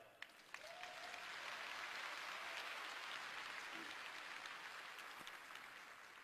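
Audience applause fills a large hall at the Huawei HDC 2019 developer conference, a dense, steady wash of clapping that swells quickly and holds for several seconds at a distance.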